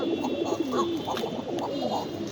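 Fancy pigeons in a pair coo close by, repeating soft rolling throaty calls in a steady rhythm.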